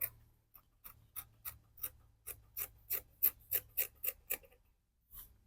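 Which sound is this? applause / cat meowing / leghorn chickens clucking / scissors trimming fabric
scissors trimming fabric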